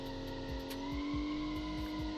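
A station wagon engine revs in the Automation car game with an old-school automatic gearbox, giving a close, steady droning hum pulsed by regular rhythmic firing beats throughout.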